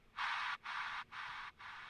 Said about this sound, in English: There's also this transition element that we've just chopped up.